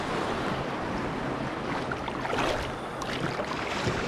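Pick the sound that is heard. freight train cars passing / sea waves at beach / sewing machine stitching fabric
sea waves at beach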